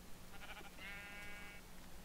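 A single sheep bleat in the Minecraft video game, one short quavering cry, faint against low background hum, with no talk over it.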